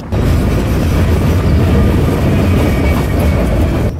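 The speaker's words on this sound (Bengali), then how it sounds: "আখাউড়া থেকে আমাদের ট্রেনটি যাত্রা শুরু করেছে চট্টগ্রামের উদ্দেশ্যে" Passenger train on the Akhaura to Chittagong run in Bangladesh, heard from inside a chair-class coach: a steady, loud rumble and rattle of the carriage and wheels over the rails, continuous throughout with no voices.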